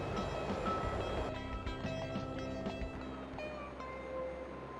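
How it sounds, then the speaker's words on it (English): A revved jet engine roars steadily in the Fighters Anthology flight sim while a wingman's aircraft lands, with loud, continuous rumbling and whine that ease slightly after the first second. "because I revved my engine up, so we're hearing that and our wingman landing"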